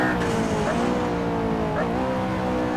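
McLaren P1 driven hard on a race track, a loud sustained engine note with shifting pitch and brief gear changes, close and steady throughout.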